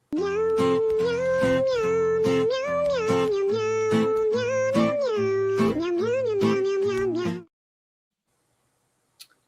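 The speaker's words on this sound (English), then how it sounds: "So here's a kitty cat." A cat meows loudly and close by in a long, wavering, drawn-out cry that rises and falls in pitch for several seconds before stopping, followed by near silence.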